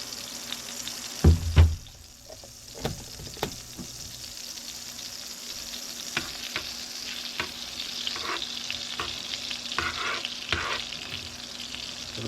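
Cold butter crackles and hisses in a very hot pan before a steak is cooked, with a couple of loud knocks at the start and then a steady, moderately loud sizzle dotted with spatters.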